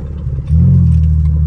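A Mercedes sports sedan that sat unused for over a month, with its engine light on, idles in a low, steady rumble that swells suddenly to a louder, fuller drone partway through and holds there.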